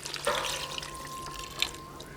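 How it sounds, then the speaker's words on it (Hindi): Lemon water is poured into a cooking pot for a beef rosh dish, a soft steady stream with small splashes and drips, fairly quiet with no talk. "ये लेमन वाला पानी जो है ये सारा इसमें ऐड कर देंगे"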